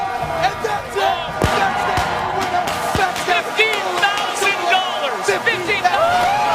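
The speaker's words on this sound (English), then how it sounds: "The crowd is going wild." Esports grand final crowd at The Crown Duel 2016 cheering and whooping loudly and steadily, a dense roar of voices with a commentator talking over it throughout.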